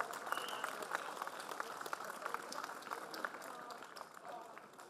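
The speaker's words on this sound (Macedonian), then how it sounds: "Дајте еден аплауз" Applause from a crowd at an outdoor protest rally, steady overlapping claps at moderate distance, filling the whole stretch with a dense, even patter.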